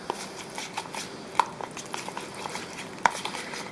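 Ground meatloaf mixture with chopped dry tomatoes in olive oil being stirred and mixed for a skillet meatloaf, giving soft wet squelching and scraping with a few sharper utensil clicks against the bowl, close and steady.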